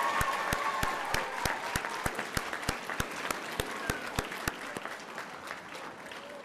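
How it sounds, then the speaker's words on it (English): A graduation commencement audience claps, with sharp, evenly spaced claps standing out over a steady wash of crowd applause that carries on for several seconds before gradually thinning. "I want you to give them a round of applause for helping you out through this journey."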